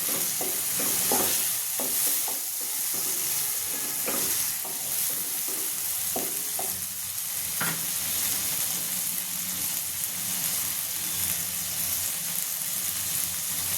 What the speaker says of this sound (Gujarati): મારી પાસે બટેટા હતા, ડુંગળી હતી, વટાણા હતા, મિક્સ કરી દઈશું